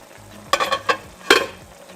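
Pork adobo cooking in a pot, a soft sizzle broken by a few close clanks and scrapes of a utensil stirring against the pot, clustered in two short bursts, no talking.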